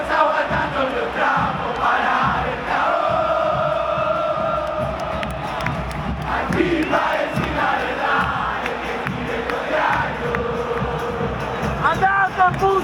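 A huge crowd at a River Plate football stadium chants and sings together in a loud, sustained roar, with rhythmic voices rising and falling and cheering mixed in.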